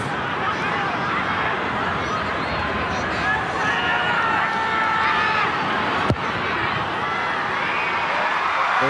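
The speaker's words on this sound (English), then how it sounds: "There's a whole bunch of kids behind me losing their voices just like me." Kids in the stands at Eden Park shouting and cheering during a Samoa versus Scotland rugby match, a dense, continuous crowd roar with a sharp knock partway through and voices mixed into the din.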